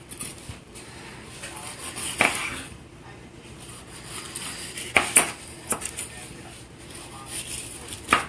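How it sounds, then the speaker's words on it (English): A knife chops down the sides of a red pepper on a cutting board, giving a few sharp, separate knocks spaced seconds apart over quiet kitchen background. "what I'm going to do to avoid getting the seeds is I'm going to just chop down the sides like that"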